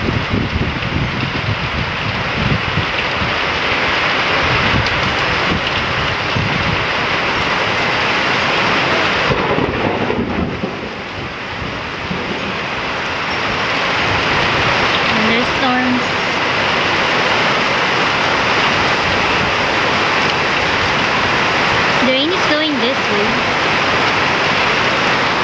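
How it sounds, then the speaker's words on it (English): Heavy rain pours as a dense, steady roaring hiss outside a health center, continuous and loud throughout, with a brief dip partway and faint voices in the background. "Uh-oh, heavy rain, guys."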